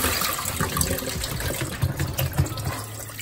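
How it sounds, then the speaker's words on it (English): Water poured and drained off a pot of boiled chicken wings while making buffalo wings, a steady close splashing gush running the full length without talk. "And then you can just throw all the water off."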